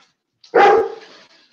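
A dog gives a single loud, close bark that fades quickly, with near silence before and after.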